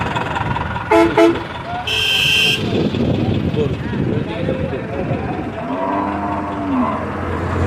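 Cattle low at the large Dewata cattle market in Mirzapur amid a noisy crowd, with a vehicle horn tooting twice and a steady din of voices and engines around them.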